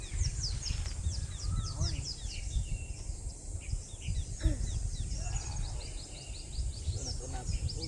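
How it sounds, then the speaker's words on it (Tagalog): Many birds chirp and tweet in quick, overlapping morning calls at sunrise, with a low rumbling murmur underneath throughout. "ang sarap pakinggan ng mga huni ng ibon."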